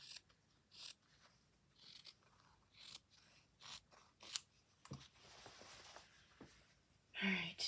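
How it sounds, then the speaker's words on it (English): Scissors snip through fabric in a series of short, crisp cuts with irregular pauses, fairly close and quiet, with a few softer handling rustles between them. "I got these scissors at Michael's."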